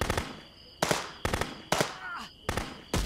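Submachine gun fire in the Contraband Police video game, coming in several short, sharp bursts separated by brief pauses, loud and close.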